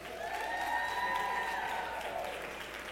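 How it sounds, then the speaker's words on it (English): Audience applause at a public announcement of business investment awards, a continuous wash of clapping at moderate distance with no talk over it, tapering slightly toward the end. "Let's give those businesses a round of applause"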